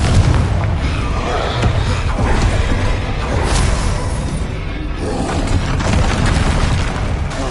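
Blasting-spell explosions from Confringo in the Hogwarts Legacy video game, a loud, continuous barrage of deep booms, whooshes and rumbling impacts running without a break, dense and close throughout.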